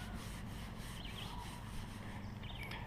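A hand rubbing across car paint roughened by baked-on debris gives a soft, continuous scratchy friction, quiet and close, with no talking.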